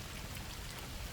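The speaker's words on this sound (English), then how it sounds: "The rain never stopped." Steady rain falling and pattering on surfaces, a dense continuous wash of drops with no voices, even and moderately quiet throughout.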